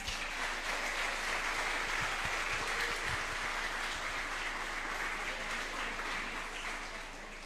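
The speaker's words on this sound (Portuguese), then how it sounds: "Uma salva de palmas." A congregation applauds in church during a sixteenth anniversary service, a dense, sustained roar of many hands clapping that fills the room and slowly fades a little toward the end.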